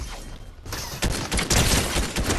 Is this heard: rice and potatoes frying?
no